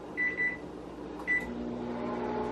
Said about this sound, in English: we're going to put it in the microwave